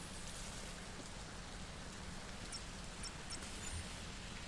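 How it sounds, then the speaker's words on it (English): Steady rain pouring on the space station map of the shooter Hyperviolent, a dense, even hiss of falling water with faint scattered drips, continuous and alone without voices. "You look up and it's raining"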